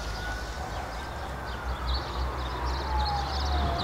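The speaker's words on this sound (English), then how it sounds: "All around us you can hear the havoc trucks and ambulances" A faint ambulance siren wails in the distance in Malta, its tone slowly gliding downward over a steady outdoor hum with light wind.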